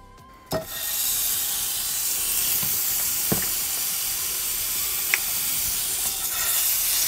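Curry paste, a block of curry base, frying in a hot pan with a steady, continuous sizzle and hiss, broken by a few sharp crackles and spatters; no one speaks.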